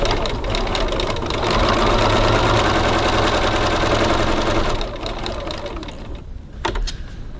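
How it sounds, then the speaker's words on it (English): A sewing machine runs steadily while stitching fabric for piping, a loud close mechanical whir that holds for several seconds before easing off and stopping. "I'm just going to stitch down here."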